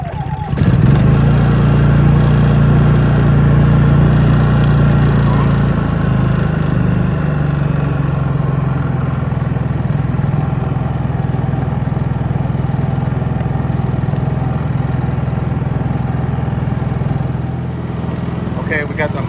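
A Honda portable home backup generator engine running steadily, a loud, close, constant hum and rattle that holds for the whole stretch, with a voice talking over it.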